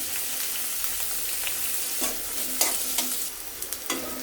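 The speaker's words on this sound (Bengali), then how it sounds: "এখন ভালো করে নেড়ে চিড়ে ভেজে নিব" Onion, garlic and green chillies fry in hot mustard oil with a steady close sizzle, broken by several sharp spatula scrapes and clinks against the pan toward the end.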